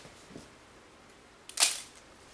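A Nikon F film camera's shutter fires once, a sharp, crisp mechanical click-clack standing out alone against a quiet background.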